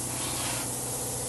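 Fog nozzles in a sanitization tunnel hiss loudly in a continuous close spray with no pause.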